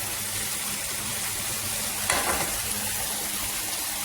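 Steady, quiet sizzle of spices frying in a pan: garam masala, coriander, chili and turmeric powders, with a short brighter burst of hissing partway through and no voices.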